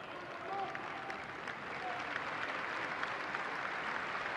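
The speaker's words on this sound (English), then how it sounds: "He's getting a very big round of applause here tonight" Stadium crowd applauding a limping player as he is substituted off during an Aston Villa v Manchester United FA Youth Cup semi-final, a steady, fairly faint wash of clapping that continues under commentary.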